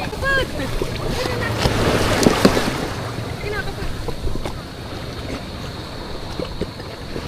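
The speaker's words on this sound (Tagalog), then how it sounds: "si kuya naman yung nagsasagwan" Paddling a homemade styrofoam fishing kayak at sea on a windy day: gusting wind buffets the microphone over sloshing water and paddle splashes, with voices talking intermittently.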